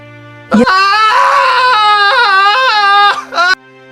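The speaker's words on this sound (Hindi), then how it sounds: "अचानक एक चीख ने सारे उल्लास को मौन में बदल दिया।" A prince's long, loud, high-pitched wailing scream in a Hindi cartoon story, lasting a few seconds, wavering in pitch, then a short second cry before it cuts off.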